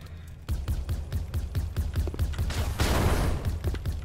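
Rapid gunfire from upgraded turrets in the tower-defense game Crystal Defense, a dense rattling fusillade of quick repeated shots with a burst of noisy explosion midway, loud and continuous with no talk.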